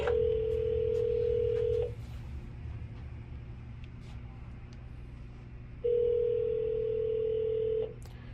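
A payphone in a video game rings in two long, steady electronic bursts of about two seconds each, separated by a pause, loud and close over a low background hum.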